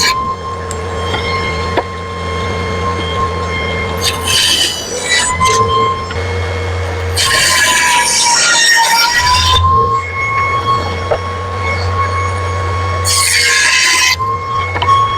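Router fitted with a round-over bit rounding the corners of a wooden rake handle, a steady loud motor whine with harsh bursts of cutting as the bit bites into the wood at intervals.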